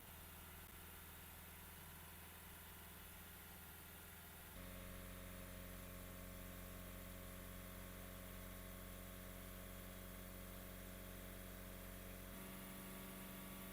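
A Mazda CX-5 diesel engine runs steadily during diesel particulate filter regeneration, with a loud, continuous drone that shifts to a held higher idle partway through, then drops back near the end.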